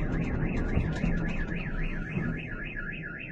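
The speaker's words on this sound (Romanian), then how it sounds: "S-a declanșat alarma la o mașină." Car alarm wailing continuously, its siren tone sweeping steadily up and down in a repeating cycle over low background rumble, fairly close and loud with no talk.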